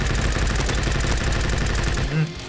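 Rapid automatic gunfire in the Roblox shooter Bad Business, a dense, steady stream of shots close and loud that stops abruptly near the end.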